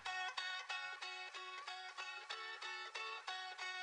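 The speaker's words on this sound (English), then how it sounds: "we are adding in some heavily panned guitars." Guitars panned hard left and right pluck chords in a bedroom pop track, bright and focused on the highs, each strum evenly spaced in a steady pulse, faint and clean with no voices.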